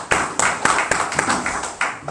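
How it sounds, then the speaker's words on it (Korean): A church congregation gives a round of clapping in praise during an Advent service, sharp uneven claps rising and falling in bursts, fairly close and loud, with no talk over it. "하나님께 영광의 박수를 드리도록 하겠습니다"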